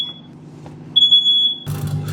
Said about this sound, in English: even setting her smoke alarm off.